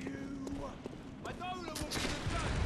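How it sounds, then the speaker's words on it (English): Enemy gunfire in the video game Bloodborne: several sharp shots crack out at irregular intervals over a busy game backdrop, with a voice speaking in between. "Who is shooting me?"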